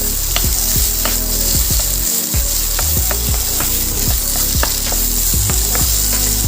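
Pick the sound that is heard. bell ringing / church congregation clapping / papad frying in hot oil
papad frying in hot oil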